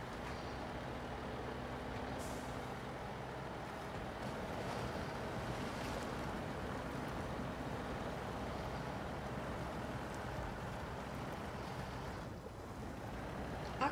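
A heavy truck ploughs through water and mud in the off-road driving game Snowrunner, with a steady, dense roar of churning, sloshing water and engine noise that continues unbroken throughout.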